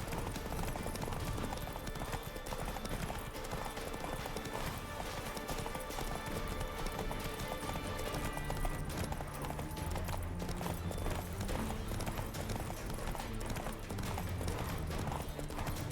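Roach, Geralt's horse in The Witcher 3: Wild Hunt, trots with steady rhythmic hoof clip-clops that run throughout against game ambience and music, with a snort or whinny now and then and a voice talking at times.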